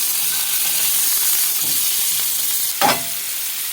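Meat patty sizzling in a hot pan, a steady bright hiss of frying fat throughout, broken near the end by a short louder sputter, close and with no voices.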